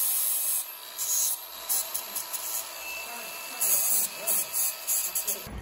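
A flap disc wheel, 40 or 80 grit, cleans up bolts in a home workshop while building a petrol-powered push bike, giving repeated short abrasive grinding bursts against a steady motor whine.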